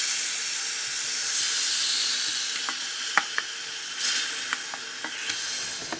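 Pork sizzling loudly in a hot dry pan without oil, a steady bright hiss dotted with sharp pops and crackles, close up.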